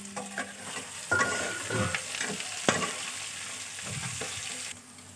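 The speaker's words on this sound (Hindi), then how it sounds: "जैसा चाहिए था वैसा प्याज फ्राई हो चुका है" Sliced onions sizzle and fry in a pan with peanuts while a spoon stirs and scrapes them, a steady close crackle with repeated clattering strokes.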